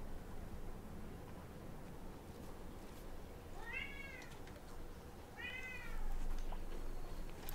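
A pet cat outdoors meows to be let in, two separate drawn-out meows at moderate distance over a steady background hum.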